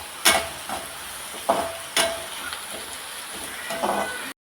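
Onions frying in a pan for cabbage poriyal, a steady close sizzle broken by several sharp scraping strokes of a spatula at uneven intervals before it cuts off.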